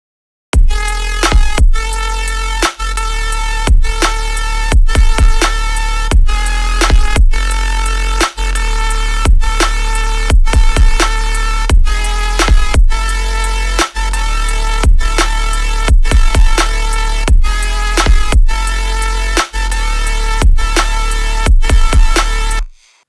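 A loud, dense Serum synth drop pounds along in steady rhythmic bursts, with heavy bass and bright stacked harmonics, cutting out briefly between hits.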